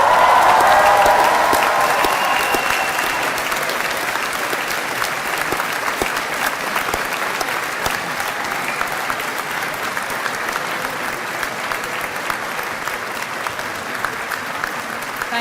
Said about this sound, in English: I would like you to stand up this time to applaud and cheer and show your family and friends just how much you appreciate them